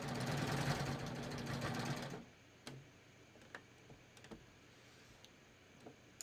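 A sewing machine runs a fast, loud, even whir while stitching a cover hem on a tee, then stops and leaves only quiet clicks and taps from handling the fabric.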